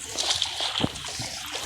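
A character swims through water in the Roblox game Brookhaven, making soft, close splashing and sloshing strokes in a short, uneven run with no talking.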